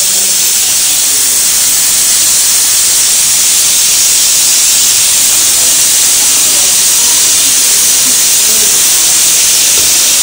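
A pressure cooker on a stove gives off a loud, unbroken hiss of escaping steam that stays level for the whole stretch, with no other sounds clearly rising above it.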